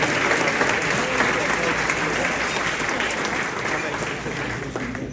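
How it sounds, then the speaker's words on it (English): A luncheon crowd applauds the event organizers, a loud, full round of clapping that holds steady and fades slightly toward the end, with a faint murmur of voices underneath. "we should give them a big round of applause."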